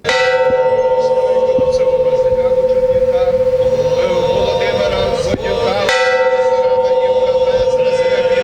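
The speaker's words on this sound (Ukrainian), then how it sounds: "А потім над монастирем зазвучав дзвін пам'яті." A large monastery memorial bell tolls with a sustained, resonant hum, loud and close, with a second strike partway through and voices faint beneath.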